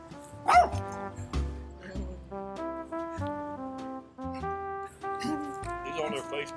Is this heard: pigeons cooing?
no